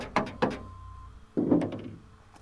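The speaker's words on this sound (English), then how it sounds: "Again, light taps all the way around." Light taps seat sintered nylon bushings into a first-generation Toyota Tundra tailgate: two quick close knocks, a short pause, then a heavier cluster of thunks that fades out.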